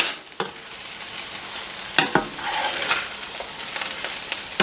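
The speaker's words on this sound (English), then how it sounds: "And just keep on flipping that egg." An egg flips and fries in a pan during fried rice cooking, a steady close sizzle broken by a few sharp clacks of a spatula against the pan.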